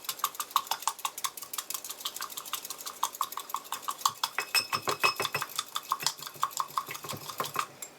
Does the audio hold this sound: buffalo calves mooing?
no